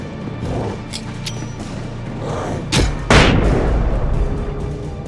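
A flashbang grenade goes off in the video game Alan Wake: a sharp, loud burst with a bright hiss that rings on over a low rumble of game ambience, after smaller thumps earlier.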